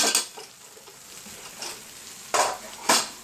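Pork with spices sizzles in a frying pan while being stirred, a constant frying hiss broken by scraping strokes and a couple of sharper utensil clinks against the pan, close up.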